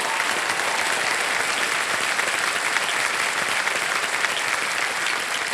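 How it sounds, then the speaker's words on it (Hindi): Studio audience on the KBC quiz show, Kaun Banega Crorepati, Yuva Shakti special, breaks into loud, sustained applause, dense steady clapping from a large crowd filling the whole stretch. "एक बार जोरदार तालियां हो जाएं इनके लिए।"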